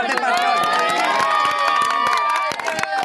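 A loud crowd at a village sarpanch election campaign event cheers and shouts together, with scattered claps cutting through the continuous roar of voices.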